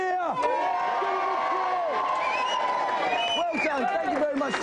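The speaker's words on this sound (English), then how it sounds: "Everyone give you a big cheer." A TV studio audience on a Gamesmaster Christmas special cheers and whoops loudly and continuously, with shouts and calls rising above the crowd throughout.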